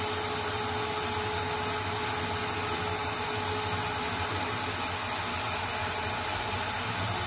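Proto-Trak CNC lathe face turning and boring D2 tool steel guide rollers, a steady machine drone with a constant whine and broadband hiss running unbroken throughout.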